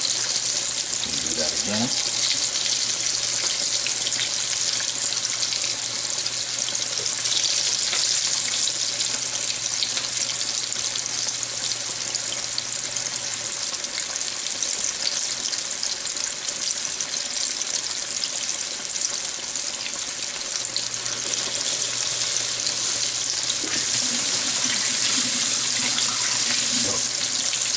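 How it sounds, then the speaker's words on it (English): Chicken drumstick lollipops, dredged in flour, fry in hot oil with a steady, loud bubbling sizzle that runs throughout, with brief handling clatter near the start. "and you dredge, and then into the oil."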